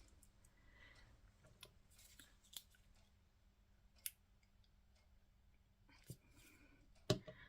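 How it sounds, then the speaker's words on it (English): Scissors snipping during a cluster-making papercraft session, using Tim Holtz scissors; a few sharp, sparse clicks and snips at close range over a quiet room, with faint breathy murmuring in between. "So the scissors I've got there,"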